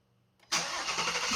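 A Ford Mustang fitted with a Vortech supercharger fires up for the first time: quiet lead-in, then the engine catches abruptly and settles into a loud, full, steady roar.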